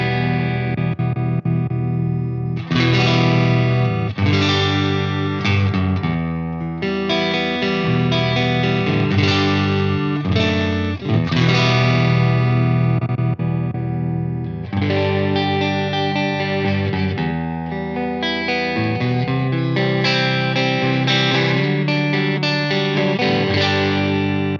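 Heavily distorted electric guitar played through a Suhr Reactive Load into a Marshall Mode 4 4x12 impulse response with Vintage 30 and EVH speakers, miked with an SM57 and a 121, chugs out dense, sustained riffs and chords, loud and continuous with no voices.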